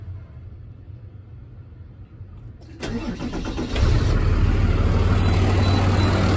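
A new vacuum truck's engine cranks and catches, rising from a low rumble into a loud, steady idle that fills the rest of the moment, with no talking.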